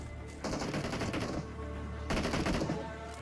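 Gunfire in a shooter video game: two rapid bursts of automatic shots, loud and close over a steady low hum, no talking.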